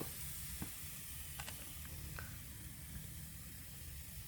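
Fish sears on a hot grate, giving a faint, steady hiss with a few soft ticks and pops, alone and without talk.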